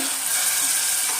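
Washed rice hits a hot pan of tempered spices and sizzles in a brief, steady, close-up hiss with no voices over it.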